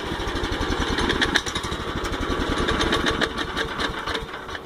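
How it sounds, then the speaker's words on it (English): Cold go-kart engine on half choke running rough, a close, loud, uneven putter with a steady stream of ragged firing pulses and no let-up. "That right there is on half choke. And as you can see, it's so cold it's running rough."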